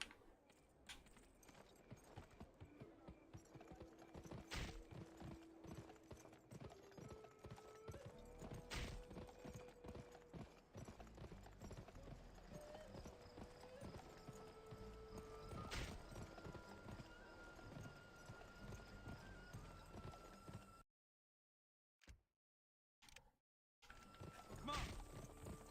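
Horse hooves clip-clop at a steady walking pace in the western video game Gun, mixed with a whinny and tonal game music over the background.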